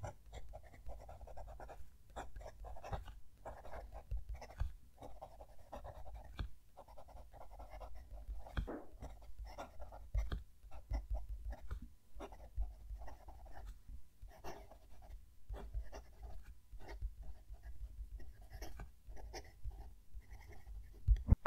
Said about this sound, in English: I can get a nice little buzz as I'm writing away with this.